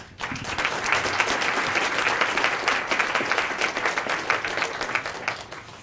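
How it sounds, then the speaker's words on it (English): A seminar audience applauds a student award winner in a steady, dense wash of clapping that rises quickly and holds evenly, with no voices over it. "let's just give him a round of applause"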